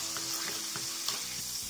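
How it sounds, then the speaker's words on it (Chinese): Tomato ketchup sauce poured into a dry wok with no oil sizzles steadily at close range while a spatula scrapes and stirs in short strokes. "把酱汁倒入锅中翻炒"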